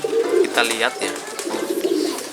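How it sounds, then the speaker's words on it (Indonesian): Pigeons cooing near the microphone at a home, low throaty rolling coos repeating, with someone talking over them briefly. "ini merpati saya pada ganggu"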